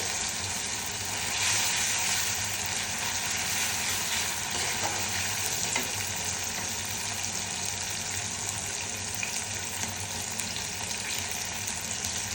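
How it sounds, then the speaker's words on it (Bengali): Eggplant fries in hot oil while being stirred, a dense, steady sizzle that stays loud and close throughout with a faint scraping of stirring beneath it and no talking. "এই যে তেলের সাথে কষাবেন ভালো করে"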